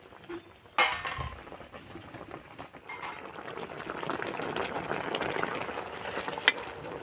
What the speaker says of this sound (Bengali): এই যে মিষ্টিটা ফুটছে যা সুন্দর গন্ধ বেরিয়েছে